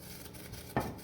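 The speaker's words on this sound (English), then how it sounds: "Let's give that a quick little stir here" Quick stir of seasoned food in a pan with salt, pepper and a touch of oil, a single sharp utensil scrape and clatter near the end against a quiet kitchen background.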